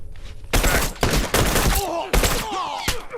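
Bursts of rapid gunfire in The Last of Us, three or four loud close volleys separated by short gaps, with faint tonal game sounds between them and no talk.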